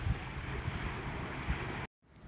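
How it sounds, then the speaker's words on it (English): Sea waves wash against the shore at Lei Yuen Mun, Hong Kong, a steady rushing surge buffeted by wind noise on the microphone, cutting off briefly near the end before fading back in. "Just here, you can hear the sound of the sea"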